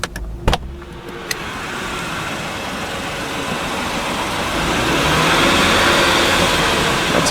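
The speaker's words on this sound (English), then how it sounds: "this makes more of a buzzing sound more than anything else." A 2014 Lexus GS450 Hybrid F Sport sits in park in Sport Plus mode, a couple of sharp clicks giving way to a steady electric buzzing whir that slowly swells louder, close by and without talk.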